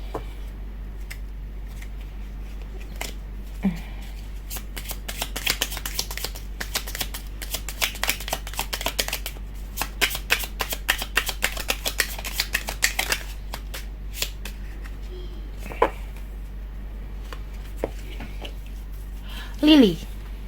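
Tarot-style reading cards being shuffled in a quiet room, a long run of rapid crisp riffling flicks and snaps that bunch together in the middle, with a steady low hum underneath.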